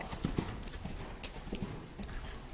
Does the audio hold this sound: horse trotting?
yes